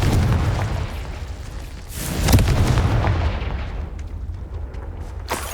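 A Confringo blasting spell exploding in Hogwarts Legacy, several loud booming bursts with crackling tails, including a sharp strong blast midway and a smaller one near the end, over low rumbling game ambience, no talk.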